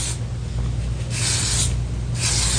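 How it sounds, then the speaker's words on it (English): Hairspray misted onto styled hair for a messy prom updo, heard as three close, steady hissing bursts of aerosol with short gaps between them, over a low constant hum and with no voices. "And I just like to use our hairspray."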